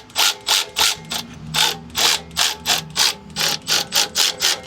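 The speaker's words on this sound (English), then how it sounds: "So we're just going to snug that down." Hand ratchet snugging down a bolt while installing a heavy-duty sway bar on a Jeep, a crisp run of about fifteen rhythmic clicking strokes, close and fairly loud, no voices.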